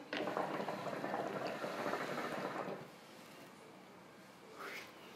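Water in a hookah bowl bubbling hard as air is blown through it, a dense gurgling burst for under three seconds before it settles to a quieter hiss, close and without talk.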